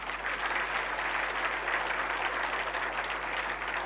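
A youth convention audience applauds, a sustained, dense wash of many hands clapping that fills the hall evenly and then begins to fade.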